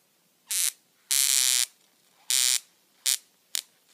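High-voltage sparks jump between the leads of a home-made 30 kV Cockcroft-Walton multiplier with an added home-made capacitor, low current. Five sharp, loud crackling bursts sound alone at irregular intervals, some longer and some very brief.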